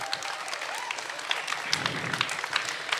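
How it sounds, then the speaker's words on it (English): Audience applause for a poet at a school spoken word competition, steady dense clapping throughout, fairly distant and moderately quiet, with no talking over it. "Applaud the poet, not the score."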